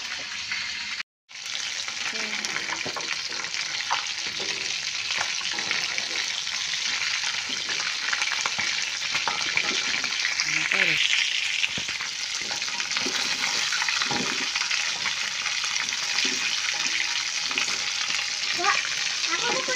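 Chicken pieces frying in a pan give off a steady, close sizzle with bubbling crackle throughout, occasional stirring clatter and faint voices in the background.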